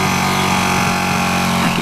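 A 2016 Ducati 959 Panigale motorcycle engine drones steadily and loudly while the bike is ridden, a dense, continuous mechanical hum with wind noise blended in.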